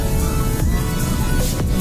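A car rolls slowly, about 20 to 30, along a narrow road lined with cottages past Nagaon near Alibag. It makes a steady, close cabin rumble and road noise with no talk.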